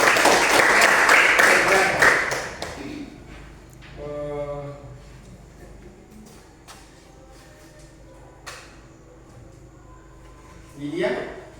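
Students in a classroom give a short burst of applause for a classmate, a couple of seconds of dense clapping, followed by quieter room noise, a teacher's voice and a few scattered claps near the end.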